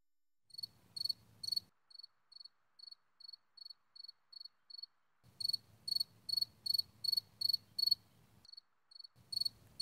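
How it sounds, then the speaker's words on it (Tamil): Crickets chirp in regular, evenly spaced pulses, louder trilling bursts alternating with single chirps, alongside a faint low hum, all fairly close with no voices. "ஒரு பூச்சி சத்தம்"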